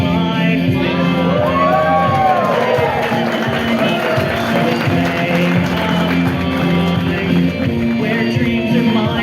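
Opening ceremony crowd cheering, shouting and whooping loudly and continuously, with voices rising and falling across the dense noise.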